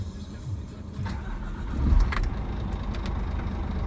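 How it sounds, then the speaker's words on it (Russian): A Scania R400 tractor-unit truck engine with about 610,000 km on it cranks and starts, swelling into a low, steady diesel rumble that settles into even idling. "Теперь мы с вами запускаем двигатель."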